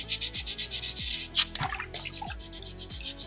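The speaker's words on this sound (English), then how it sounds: "when I'm sanding in my second sandpaper" Soapstone being sanded by hand with folded sandpaper, a rhythmic series of close, loud back-and-forth rubbing strokes, with a brief wet tap and scrape in the middle and no talking.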